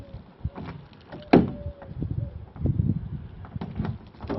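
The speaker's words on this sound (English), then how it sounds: "Window works as it should." Electric window motor whirring in a fibreglass door on a Nissan Silvia S14, a short close mechanical run with clicks and thumps around it, no talking.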